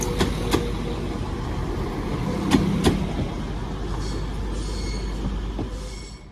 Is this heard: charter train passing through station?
yes